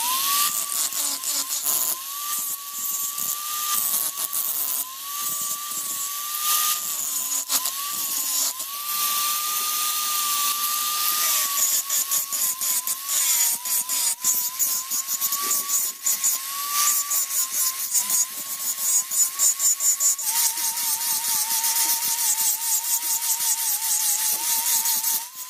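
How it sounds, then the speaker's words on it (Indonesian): A mini grinder fitted with a Nikon Resibon ceramic abrasive carves a knife handle, a continuous high, wavering motor whine with gritty grinding that rises and dips as it bites the material. "Lanjut kita gerinda memakai amplas seperti ini ya, Nikon Resibon keramik."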